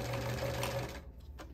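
Sewing machine stitching fabric for a vintage travel bag, a steady close whirring drone for about a second that then stops and leaves a few faint clicks and handling sounds.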